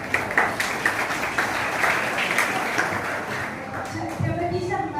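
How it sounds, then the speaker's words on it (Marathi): An audience at a school event in Sangli claps for a girl, a dense patter of many hands filling the hall for several seconds, with a voice talking over it. "संत समाजाच्या मुलीसाठी टाळ्या वाजवा"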